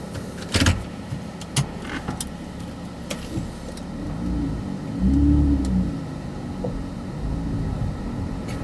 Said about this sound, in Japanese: 室内にいても最初のエンジン音、充填音というのはですね心地よく伝わってくる感じですね